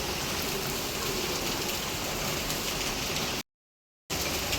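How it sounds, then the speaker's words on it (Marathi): Steady, dense rain pours down continuously as a broad hiss, briefly cut to silence near the end before resuming. "आज दिवसभर सगळा पाऊसच आहे इकडं सकाळपासून सकाळपासून पाऊस आहे"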